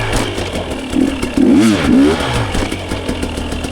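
A dirt bike engine idles close by, then revs up hard with a rising and falling surge, as the rider works the clutch and throttle while practicing wheelies on the rear tire. Afterwards the engine settles back to a steady idle.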